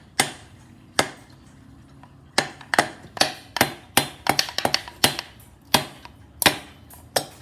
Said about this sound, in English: tap it lightly with the hammer as you pull out